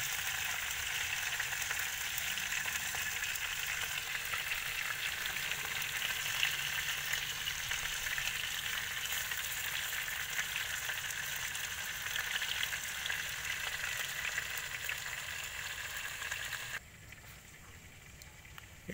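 Pork pieces frying for humba in a home kitchen, giving a steady dense sizzle that holds loud and even for most of the stretch, then drops abruptly quieter near the end.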